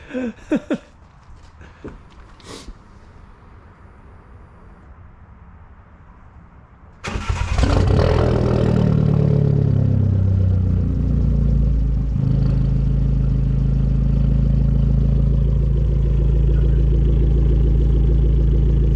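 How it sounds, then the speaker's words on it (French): Fiat Punto Abarth Evo, stage 2 tuned, fitted with a full exhaust, cranks and fires into a loud, deep idle that roars up at start and then settles into a steady, throaty burble close to the microphone. "Est-ce que tu veux pas nous la démarrer, qu'on entende un petit peu ce full tube d'Ekata"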